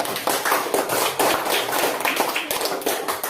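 Schoolchildren in a primary classroom clap their hands together, a loud, dense burst of many hands that carries on steadily with sharp individual slaps throughout.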